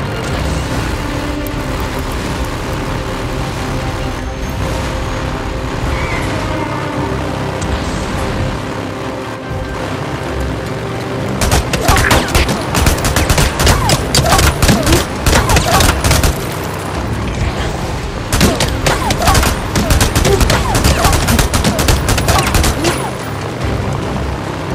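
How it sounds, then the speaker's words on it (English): Gunfire in the video game Days Gone, dense bursts of rapid shots and booms filling the second half after a quieter rumbling stretch, loud and close with brief pauses between volleys. "Shoot the pipe, Dick!"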